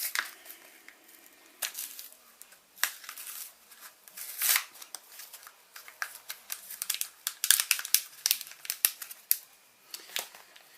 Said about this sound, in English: pair of scissors to get this out of the packet